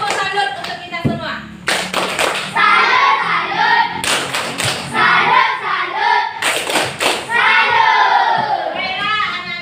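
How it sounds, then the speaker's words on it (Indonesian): Children in a classroom clap together in a salute, a rhythmic burst of hand claps in several bouts, with shouting and talk between them. "Tepuk salut untuk kita semua."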